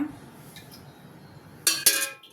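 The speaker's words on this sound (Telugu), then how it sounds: "స్టవ్ వెలిగించి కంచుడు పెట్టాను" A cooking pan, a kanchudu, set down on a lit gas stove while making puri and chole masala curry gives two close metallic clanks followed by a short ringing clatter, after a quiet room.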